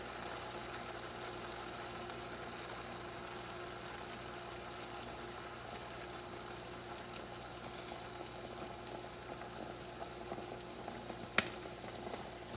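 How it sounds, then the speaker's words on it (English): A pot of moghrabieh couscous with chickpeas, fennel seeds and parsley boils on the stove, a soft, steady bubbling hiss with a few faint pops, quiet and uninterrupted. "Let it boil for a little bit."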